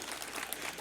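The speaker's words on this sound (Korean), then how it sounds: "박수 한번 부탁드릴게요" Audience applause at a church Marian evening service, a brief, faint, steady patter of clapping heard from a distance.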